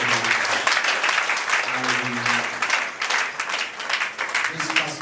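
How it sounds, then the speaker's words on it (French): Church congregation claps steadily in a sustained, busy round of applause while a voice speaks intermittently over it. "Give him a big hand."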